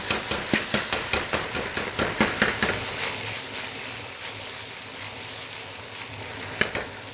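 Vegetables stir-frying in a wok over high heat for a Chinese vegetarian dish: steady loud sizzle with a quick run of rhythmic clanks and tosses at first, then continuous frying hiss with a single sharp knock near the end, no talking.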